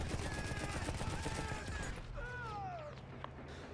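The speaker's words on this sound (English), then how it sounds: "Right now I'm just shooting at a Zeppelin." A Lewis gun fires at a Zeppelin in the WWI video game Battlefield 1: a dense, sustained rattling burst for about two seconds, then quieter battle noise with faint whistling tones.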